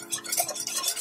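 A pot rattles and clatters on the stove as a whisk scrapes around a cooking roux of butter and flour, a short close burst of metallic stirring with no voices.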